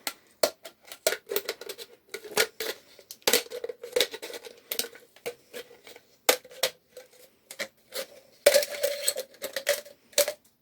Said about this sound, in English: So I'm using a pair of scissors.